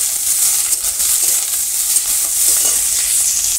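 Onion and chili frying in oil with mustard seeds in a village kitchen, a steady close hiss and sizzle running evenly throughout with faint stirring, no voices.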